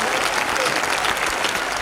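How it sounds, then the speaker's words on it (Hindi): An audience at a Hindi comedy poetry show claps steadily, a short, dense burst of applause from a crowded hall. "आपने पहले ही ताली बजा दी।"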